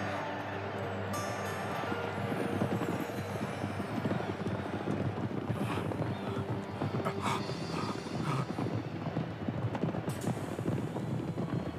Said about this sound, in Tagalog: Pagkalampas sa ikatlong kurbada, biglang bumilis yung mga kabayo.